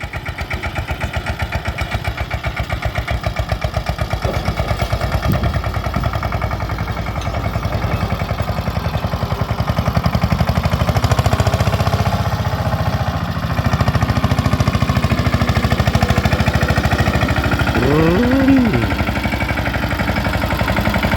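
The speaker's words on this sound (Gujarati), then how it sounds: "અહીંથી ટ્રેક્ટર લઈ લઈએ આપણે" A tractor diesel engine runs steadily close by, a loud rhythmic chugging idle that rises in revving partway through, with a brief squeal near the end and no talking.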